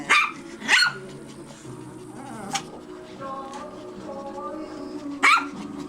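Small Maltese and Yorkshire Terrier dogs yap in sharp, high bursts, a few barks spaced apart, with whining and faint voices and background noise in between.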